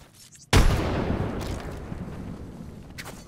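A frag grenade explodes in a video game with one sudden loud blast, followed by a long rumbling decay that fades slowly, with faint gunfire crackling in the background.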